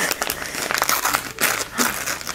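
Gift wrapping paper crinkles and rustles as a present is unwrapped, close and continuous with a few louder crumpling bursts.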